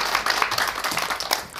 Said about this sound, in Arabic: تصفيقة تصفيقة على أكرم